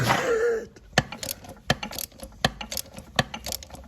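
Socket wrench tightening a nut while the shaft is held still, a close metallic ratcheting with sharp irregular clicks and clanks after a brief opening noise.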